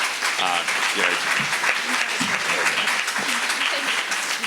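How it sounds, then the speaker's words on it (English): Audience applause for a panel at a ninth grade parent school counseling presentation, steady dense clapping filling the room throughout, with voices talking over it. "a round of applause for our panelists"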